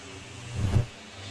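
A dirt track race car at a speedway in Warrensburg, Missouri surges past with a brief rising and falling engine roar, swelling to a peak mid-way and then fading back into a low background rumble.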